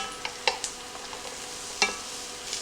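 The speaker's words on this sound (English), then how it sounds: "we're going to go ahead now and add the onions" Onions dropped into a hot pan for a hash brown crusted ham and cheese quiche, giving a soft, faint sizzle with a few brief clatters and light scrapes.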